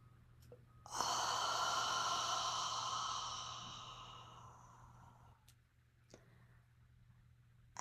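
One long, slow breath during a guided breathing exercise rises sharply, holds as a broad airy rush for several seconds, then fades out gradually. A few faint clicks sit in a quiet room.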